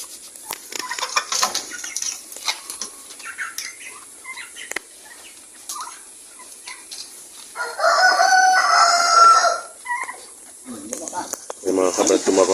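Hens cluck and murmur nearby amid rustling, then a rooster lets out a loud, drawn-out crow, followed by more squawking.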